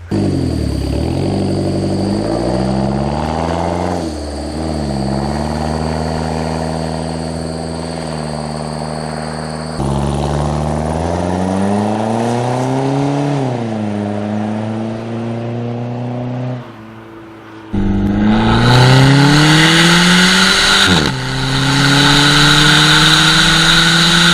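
A loud, raw straight-piped exhaust with muffler delete on a PT Cruiser GT revs repeatedly, pitch rising and falling in long sweeps with brief cutoffs between pulls, close up and without talk.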